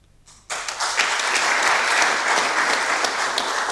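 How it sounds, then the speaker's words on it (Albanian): Applause bursts out at a book promotion in Mitrovicë, rising suddenly after a short quiet start into a full, sustained round of clapping from the crowd. "duartrokitje"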